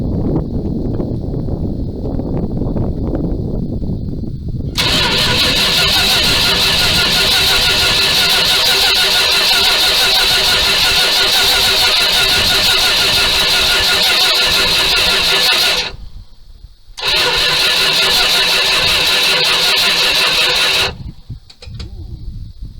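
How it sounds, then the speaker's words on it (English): Engine of a 1978 Dodge D200 crew cab, long abandoned, cranks and catches, running loud and steady up close, briefly cutting out, then resuming before stopping. "Then we'll go ahead and see if it'll go ahead and start and run."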